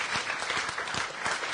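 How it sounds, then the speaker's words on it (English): Brief burst of audience applause at a lab presentation session, dense clapping from a crowd filling the room, steady and moderately distant. "Maybe a little bit of an applause."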